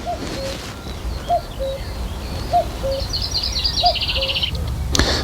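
A bird in the woods repeats a soft two-note call at a steady interval, a little distant, over constant outdoor hiss, with a higher twittering call joining briefly.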